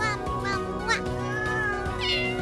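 A cartoon cat meows in a French animated toddler show, a few drawn-out tonal mews over background music, loud and close.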